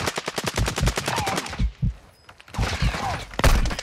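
Rapid automatic gunfire in Call of Duty: Modern Warfare II, loud, close bursts of machine-gun shots, a brief pause, then more firing and a final heavy shot.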